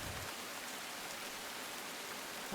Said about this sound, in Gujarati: વરસાદ વરસી રહ્યો છે